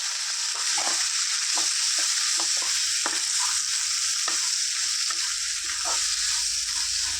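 Cut brinjal pieces frying in a pan over a gas flame, a constant bright sizzle with scattered stirring scrapes and light clicks from the spatula, close and alone.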